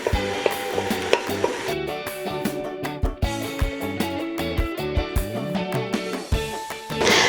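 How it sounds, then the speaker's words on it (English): Ground beef browns in a deep 8 to 10 inch pot, sizzling steadily while a utensil scrapes and stirs in repeated clanking strokes, with no talking. "We're going to let that cook up until the ground beef gets brown"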